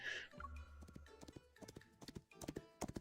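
Horse hooves clip-clop in the Love and Deepspace video game, a quick series of close, sharp strikes over faint background music.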